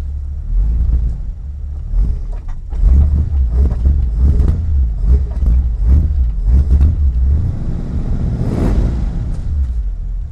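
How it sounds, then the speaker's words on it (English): Exhaust of a Mercedes car recorded close at the tailpipe in wind, a steady low rumble with repeated revs and surges, loud and continuous without talk. "I've got a Zoom H1 recorder out in the back. Get me some tailpipe perspective."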